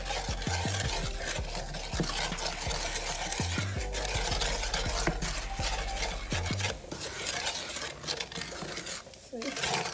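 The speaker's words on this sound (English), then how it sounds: "Let it fry a little bit." Food frying in oil in a pan for smothered pork chops, a loud continuous sizzle with scraping and stirring against the pan and low bumping thuds throughout.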